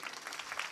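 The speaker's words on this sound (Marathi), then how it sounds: "टाळ्या वाजवा ना जोरदार." A crowd at a Marathi devotional kirtan discourse on Nirjala Ekadashi claps in a brief, dense burst of scattered hand claps, fairly faint and alone without speech.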